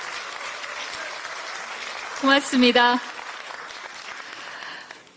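An audience claps for a committee chair at a Democratic Party gathering, a short burst of applause of about a second under a loud voice, amid steady room noise.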